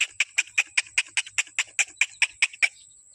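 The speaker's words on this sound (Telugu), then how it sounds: "కోళ్ళు ఎన్ని ఉన్నాయో" A flock of chickens on a village farm gives a quick run of about a dozen sharp, evenly spaced clucks, close and clear against a quiet background with no talk.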